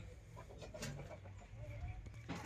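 Red Kakkirai country chickens cluck on a village poultry farm, several birds close by giving short overlapping clucks and calls over a steady murmur of the flock.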